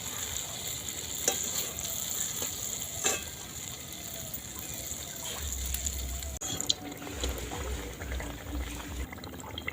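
Palm fruit malpua fry in oil with a steady, moderate sizzle and bubbling, broken by occasional clinks and scrapes of a utensil and a few low thumps. No one talks.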